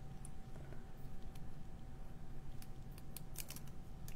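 Craft snips cut off the end of a piece of card stock for a handmade card, giving a few quick, close snipping clicks over a steady low room hum, with no talking.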